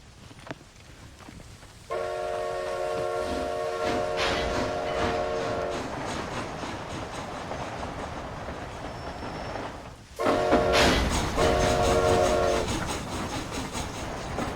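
A steam-era train rolls along the tracks in the Wild West video game Red Dead Redemption: Undead Nightmare, a steady rumble and clatter of wheels beneath two long blasts of a loud train whistle.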